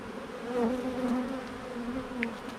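Honey bees buzz close by around a hive in a steady, wavering drone, with a few individual insects passing near.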